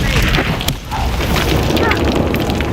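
Loud Confringo blast spell explosions in the game Hogwarts Legacy, a dense booming roar with sharp cracks cutting through, briefly dipping then surging again, while a voice shouts spells during combat.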